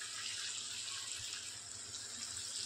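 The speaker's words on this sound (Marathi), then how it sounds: "दुसरी पीस घालते तेलात." A boneless basa fish piece fries in hot oil, giving a steady, even sizzling hiss that carries on unbroken at moderate volume.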